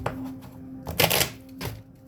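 A large deck of tarot cards being shuffled, with a few short crisp riffling bursts of card edges separated by quieter gaps, close by.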